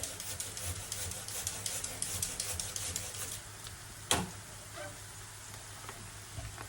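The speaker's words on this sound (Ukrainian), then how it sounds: "цибулька у нас пасирується" Onion sautés in butter in a pan with a quiet, steady sizzle and a faint rhythmic scraping from stirring, and a single sharp knock comes midway.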